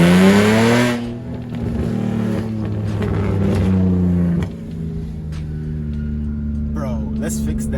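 BMW E46 engine with new headers and an exhaust leak revs up hard, holding a rough throaty drone before dropping and rising again, loud and close, with voices talking over it.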